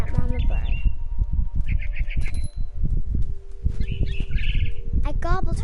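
A mother bird chirps in the video game What Remains of Edith Finch, bright short tweets and trills scattered over low rumbling game ambience and thumps.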